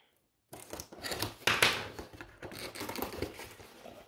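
Packaging of a Toile de Maîtres art canvas from Action is cut and torn open, giving close, crisp snips, rips and crinkles in quick irregular bursts, with no talking.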